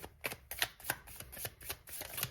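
Tarot cards handled and shuffled in a series of soft, quick riffling bursts and slaps, repeating roughly every few tenths of a second at close range, with no talking.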